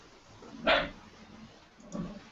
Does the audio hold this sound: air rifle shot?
no